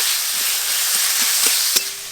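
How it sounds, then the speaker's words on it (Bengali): Chopped onion fries in a pan with a steady, close sizzling hiss, with a few soft stirring bumps and a single sharp clink near the end. "পেঁয়াজ বেশ ভালো করে ভাজা ভাজা হয়ে গেছে"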